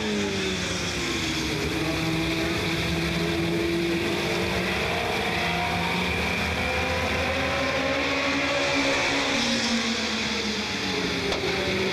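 Modified 4 race cars roar around the Smoky Mountain Raceway oval, a loud, continuous engine drone with shifting pitch as cars accelerate and pass, no voices over it.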